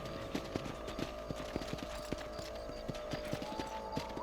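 Horse hooves clip-clop at a steady walking rhythm in a Red Dead Redemption Western setting, moderately close and fairly quiet over a low ambient bed, with no talk.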